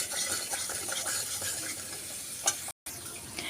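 Spice paste with turmeric powder and salt lightly frying in a pan for a raw mustard hilsa dish, a soft steady sizzle with stirring scrapes and a brief clatter, then a short dropout.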